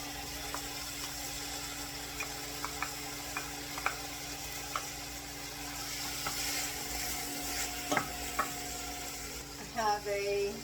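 Mushrooms and thawed frozen onions sauté in a pan, a soft steady sizzle with occasional light scrapes and clicks of a utensil stirring, plus a low hum in the room and a brief clatter near the end.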